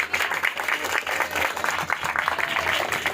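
A church congregation applauds loudly and steadily throughout, with dense continuous clapping filling the space and a few faint voices mixed in.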